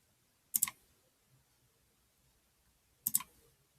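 A computer mouse clicks twice about two and a half seconds apart, each a sharp, close double-click snap in an otherwise quiet room.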